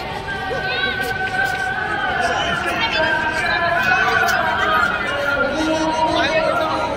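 Dense crowd chatter at Jama Masjid in Delhi, a steady babble of many voices mixing into a continuous hubbub with a few brighter individual calls rising above it.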